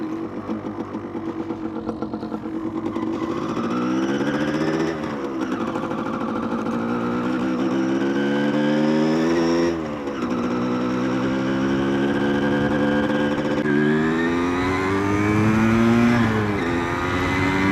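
A 1993 Yamaha DT175 two-stroke motorcycle rides on a sandy road in the Australian countryside, its loud, buzzy engine rising in pitch through repeated gear changes and accelerations, steady and close throughout.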